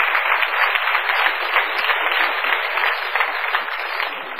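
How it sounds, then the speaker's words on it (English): Steady, dense applause from a seminar audience fills the space for several seconds, an even wash of many hands clapping with no speech over it. "Give him a round of applause."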